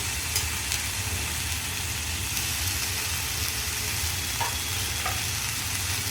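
Drumstick flowers sautéing with green chillies in a pan, a steady, even sizzle with faint occasional scrapes of stirring, close and continuous with no talking.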